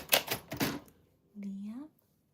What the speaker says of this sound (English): We are typing